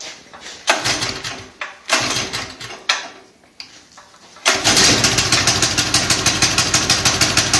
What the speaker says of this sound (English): got the spark plug in, and the engine fires now.